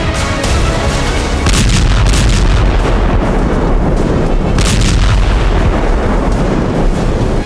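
Heavy artillery fire in the Nagorno-Karabakh war between Azerbaijan and Armenia: loud, dense booming with repeated sharp blasts over a constant low rumble, several distinct bursts standing out across the stretch.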